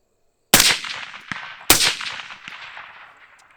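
Two loud, close AR-15 rifle gunshots about a second apart, each a sharp crack followed by a long echoing decay outdoors, with small clicks in between.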